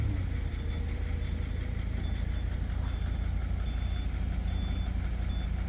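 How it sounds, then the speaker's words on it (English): A skid steer reversing on a farm lot near an old diesel truck, its backup alarm giving evenly spaced beeps over a low, steady idling engine rumble, moderately distant and with no talk. "So Justin's gonna take the skid steer"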